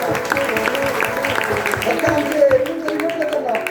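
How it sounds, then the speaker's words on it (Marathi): An audience at a live Bhagavat katha gathering claps steadily in quick repeated bursts, loud and close, while someone talks over the applause. "टाळी वाजवा आमच्या माऊलीला"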